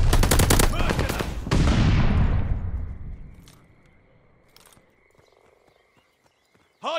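Gunfire rattles hard at a contested hardpoint in Call of Duty: Vanguard, a loud burst of rapid shots for the first three seconds that trails off into scattered faint pops and distant reports before one sharp blast at the end.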